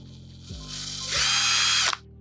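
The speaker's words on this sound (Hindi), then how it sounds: "ये देखें, अगर बिल्कुल स्लो भी घुमाना चाहे तो घुमा सकते हैं।" A Tonfon 3-in-1 rechargeable impact drill runs at low trigger speed, with a couple of short mechanical clicks before it winds up into a brief close, whirring spin and then stops.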